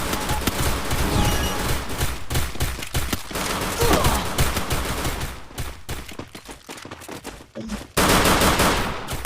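Dense, rapid Free Fire gunfire with bursts of automatic fire and explosions during a 4v4 match, loud and continuous, pausing briefly near the end before resuming.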